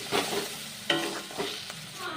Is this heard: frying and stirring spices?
yes